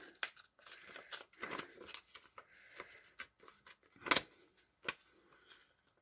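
Paper is torn by hand around a shape for a paper snippet roll, with soft crinkly rips and rustles in short irregular bursts, close and quiet, no talk.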